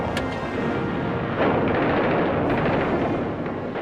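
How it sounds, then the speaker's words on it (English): WWII-era artillery bombardment from archival film: a dense, continuous rumble of distant and nearer blasts, with a few sharper reports standing out over the muffled, crackly din. "a short bombardment began the final destruction of France"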